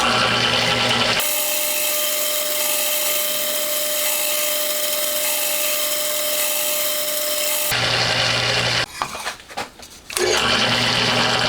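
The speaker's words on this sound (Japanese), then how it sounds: "とりあえず穴開けと切り取りを先やります。" A high-pitched power drill bores holes in a Honda Monkey motorcycle engine part being converted to a 124.4cc four-cylinder, running steadily for several seconds, then a short stuttering burst of drilling near the end.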